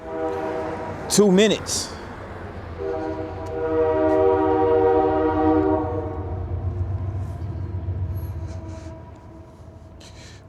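A train passes near the railroad tracks in downtown Iuka, Mississippi. Its horn blows one long, loud, sustained blast over rumbling wheels, after a brief spoken word.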